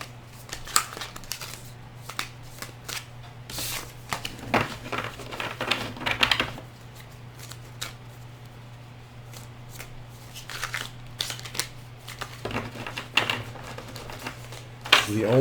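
Crisp riffling bursts of a deck of cards being shuffled, repeated several times at close range, with a steady low hum underneath.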